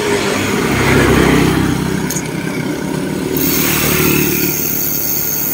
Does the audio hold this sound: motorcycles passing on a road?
yes